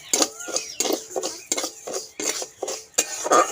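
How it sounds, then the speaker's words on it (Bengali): Gobindobhog rice is stirred in ghee in a wok as it fries, making repeated scraping and clinking strokes of a utensil against the pan at an even, brisk rhythm, up close with no speech. "গোবিন্দভোগ চালটাকে ঘিয়ের উপরে ঢেলে দিচ্ছি ভেজে নেবো চালটাকে ভেজে নিচ্ছি"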